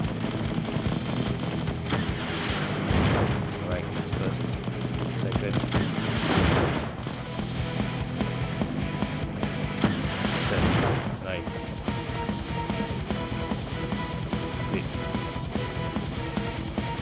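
Gunfire from the mobile shooter game Cover Fire, with several heavy bursts of shots and booms standing out over a dense, continuous layer of game music and effects.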